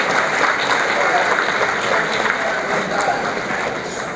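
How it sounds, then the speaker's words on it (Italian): Audience at an award ceremony for the Telesio Prize in Canada gives a steady, loud round of applause, continuous dense clapping that fades slightly toward the end. "How about a great round of applause?"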